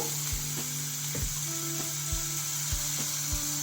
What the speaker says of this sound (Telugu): పచ్చివాసన పోయేదాకా వేయించుకోవాలి